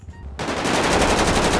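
Machine gun fire in GTA 5 breaks out suddenly after a near-silent moment and continues as a loud, dense stream of rapid shots with no talk over it.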